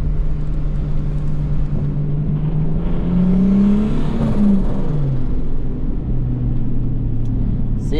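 A car without a front bumper drives past at close range, its engine whirring and rising in pitch as it accelerates, then easing off, over a constant road rumble.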